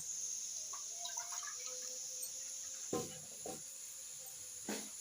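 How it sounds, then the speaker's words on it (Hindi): Water goes into a hot pan of browned onions, with a few short, faint sizzling bursts rising over a steady low hiss and no voices. "अब हम इसमें डालेंगे पानी और इसका निकालेंगे कलर"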